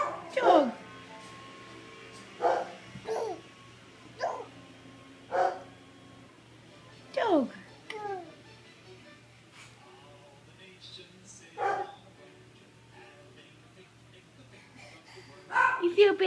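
A dog gives a handful of short, separate barks and yips spread across the stretch, moderately close, with quiet gaps between them and a person talking near the end.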